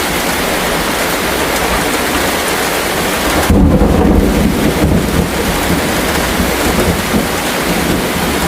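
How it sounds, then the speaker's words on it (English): A thunderstorm with steady heavy rain hissing throughout, broken midway by a loud, close rumble of thunder that rolls on for several seconds before the rain carries on alone. "Thunderstorm resulting in widespread flooding and landslides."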